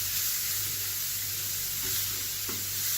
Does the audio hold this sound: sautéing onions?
yes